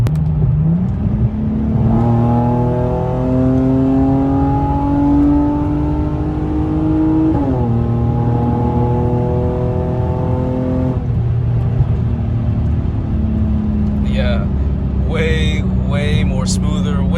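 A 2JZ-engined Lexus GS300 exhaust with a Megan Racing single-exit midpipe drones smoothly as the engine steadily accelerates, its pitch rising through the revs, close and continuous.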